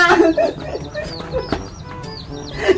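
Hungry chicks peep in quick high chirps over clucking fowl nearby, loud and close, with a scattered, overlapping rhythm.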